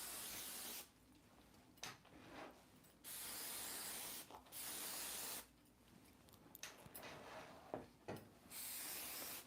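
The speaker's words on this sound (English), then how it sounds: "Just spray like that." Sexy Hair heat protection spray is sprayed onto hair in short hissing bursts, about five spritzes of uneven length separated by brief pauses and faint handling clicks, close and fairly quiet.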